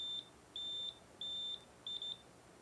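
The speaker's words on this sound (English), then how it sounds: "Press the buzzer key. 2 short bleeps for black and 1 long for white." Four electronic buzzer bleeps from a Brother KH-930 knitting machine at a single high pitch, spaced apart and varying slightly in length, the last one breaking briefly; quiet and clean with nothing else.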